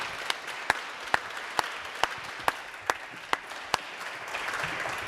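An awards ceremony audience applauds steadily, a dense crowd of clapping hands with sharp, evenly spaced louder claps punctuating the wash, swelling slightly near the end.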